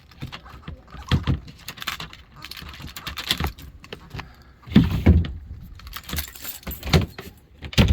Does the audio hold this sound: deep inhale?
no